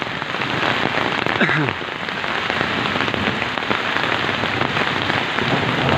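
Heavy rain pouring down on a Turkish village during a storm with hail, a dense, loud, continuous hiss of drops striking surfaces close by, with a faint brief voice-like sound early on.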